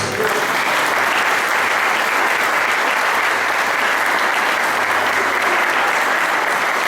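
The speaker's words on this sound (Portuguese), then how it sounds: "Quem compreendeu, aplaude a Jesus." Steady, dense applause from a large church congregation, continuous and loud for several seconds without a break.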